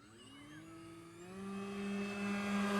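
An E-flite Maule M-7 V2 RC model airplane drones overhead, its electric motor and propeller whine rising in pitch and growing louder as the throttle opens, heard alone without talk.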